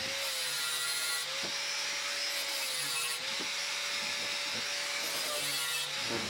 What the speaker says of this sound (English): I'm gonna start trimming it here until it starts matching this shape